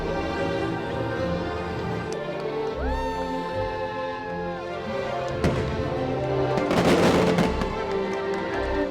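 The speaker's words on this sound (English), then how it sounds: "Why are these fireworks making me tear up right now?" Fireworks boom and crackle in the distance at Disney World, with a bigger burst near the end, under music and a crowd's murmur.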